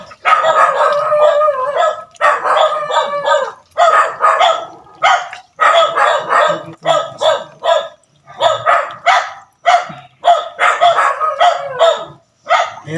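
Several dogs bark loudly and repeatedly in rapid bursts, close by, with some howling-like yelps mixed into the continuous noisy barking.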